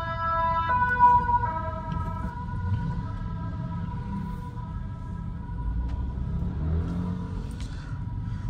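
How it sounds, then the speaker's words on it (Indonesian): An ambulance siren wails clearly at the start and then fades away, while a Toyota Innova diesel (2GD engine) rumbles steadily close by on the road. "Oh, ini ada ambulan mau lewat, kita ke pinggir dulu, kita beri jalan."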